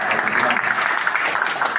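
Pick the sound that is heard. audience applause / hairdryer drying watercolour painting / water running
audience applause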